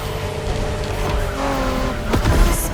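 A 1990s Honda NSX in the racing game The Crew Motorfest roars at high revs with squealing tires as it drives hard, loud and close, with no talk.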